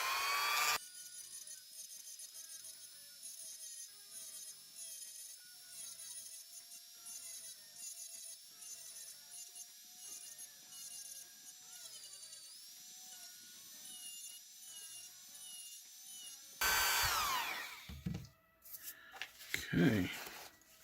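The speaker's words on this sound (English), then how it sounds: "We're going to do a quick little cleanup with the Dremel." Dremel rotary tool cleaning up a knock-off Marvel Legends Hulk action figure, a thin high-pitched whine held steadily for most of the stretch, then scratchy rustling and handling noises near the end.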